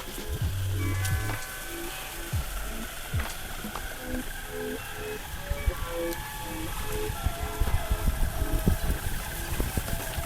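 An OWNBOARD Carbon AT electric skateboard riding off-road and carving, a continuous rough rumble of wheels over uneven ground with a steady motor whine and scattered clunks and bumps.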